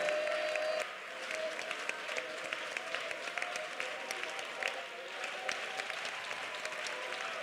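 A church congregation at a prayer centre claps steadily, a dense, fairly distant wash of applause that carries on unbroken, with a faint voice or tone near the start.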